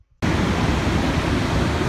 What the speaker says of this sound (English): We're here at the Kompapeng waterfall, dubbed the Niagara Falls of Asia.